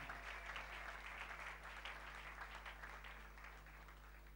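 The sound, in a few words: congregation applauding in church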